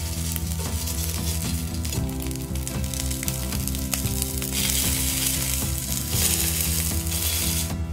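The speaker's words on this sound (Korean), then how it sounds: "소세지를 구워줍니다." Sausages sizzle in oiled pan, a steady, dense crackle of frying fat with small pops and faint utensil clinks throughout, close and continuous with no talking.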